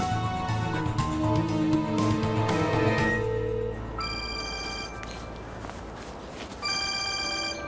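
A telephone rings indoors in a Turkish TV drama scene, a sustained electronic bell tone that stops and then starts again, loud and close with no talk over it.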